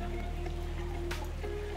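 Rain falls steadily on clothes hung outdoors to dry, a constant soft patter with a low hum underneath and a brief brighter splash partway through.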